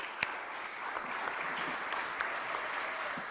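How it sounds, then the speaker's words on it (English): An audience applauding Coach Fran Dunphy at a mayor's recognition event in Philadelphia, sustained clapping from a crowd at an even level with a few sharper claps standing out. "So let's give a round of applause."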